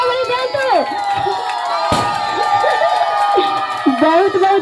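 A crowd at a dance event cheers and shouts loudly and steadily for several seconds, with whoops and a sharp clap or burst near the middle, voices layered throughout.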